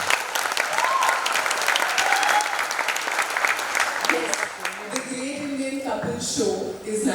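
A studio audience at a comedy show breaks into loud, dense applause and cheering, and the clapping fades as music and voices take over near the end.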